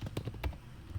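Quick, soft key taps on a computer keyboard while entering figures in an Excel ledger sheet, about half a dozen close clicks in a short burst, with no talking.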